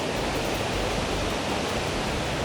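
A waterfall at Adelboden, Switzerland pours down near a bench, a steady loud broadband rush of falling water that fills the whole stretch with no talking.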